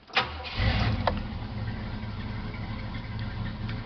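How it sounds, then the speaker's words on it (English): A cold 1967 Ford Country Sedan engine cranks briefly, catches and settles into a steady, rumbling idle close by, with no speech. "So she might take a couple of times to start."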